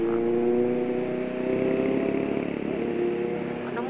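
A four-cylinder motorcycle engine passing on a ride around Baguio City, a smooth steady drone with a slight shift in pitch as it goes by, close and fairly loud with no talk.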